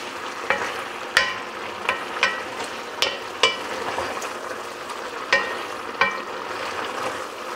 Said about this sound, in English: You got to keep turning this cabbage